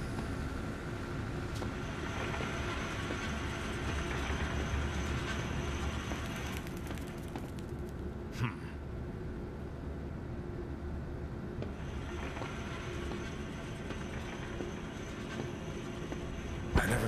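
A train runs through a zoo in the Zoochosis video game, giving a steady, loud, dense rumble with a few faint higher whistles and clanks across the whole stretch.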